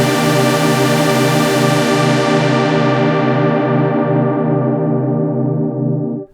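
Synthesizer preset layering two Model D saw oscillators with linked envelopes and a long filter decay: one loud, bright sustained chord with a slow beating shimmer, dulling gradually before cutting off.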